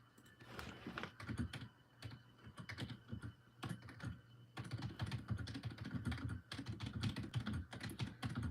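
Steady, rapid computer keyboard typing, clicky keystrokes tapping away continuously at close range with no voices.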